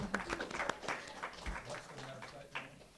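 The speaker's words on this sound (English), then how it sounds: "let's clap it up for Rabbi Noah." Applause from an audience at a faith leadership talk on homelessness, a quiet, loosely spaced patter of clapping at a distance that continues evenly throughout.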